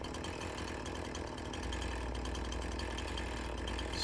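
Chainsaw engine from Farming Simulator 19 running steadily at a mid-pitched idle, with a deeper, heavier drone settling in partway through; continuous and fairly close with no talk.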